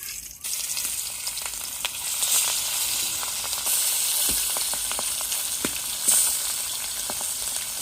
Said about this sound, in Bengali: যে মা এখন প্রথমে যে মাছ ভাজি করব